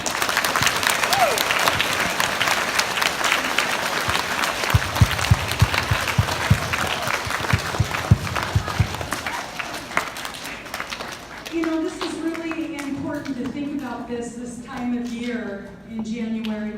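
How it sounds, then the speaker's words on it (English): Audience applause at a school assembly for Martin Luther King Day, sustained clapping from a large crowd of students for about ten seconds, then fading as a voice starts speaking near the end. "let's give them a round of applause"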